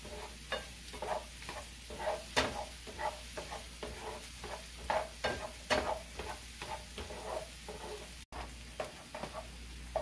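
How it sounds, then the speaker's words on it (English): Onions cooking down in a pan until translucent, giving a steady close sizzle broken by rhythmic stirring scrapes about every half second, with no talking. "we got our onions cooked down translucent enough"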